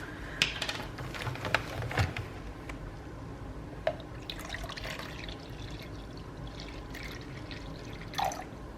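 Distilled water measured and poured for soapmaking, with soft drips and trickles plus a few light clinks of containers, close and fairly quiet against a steady background hiss.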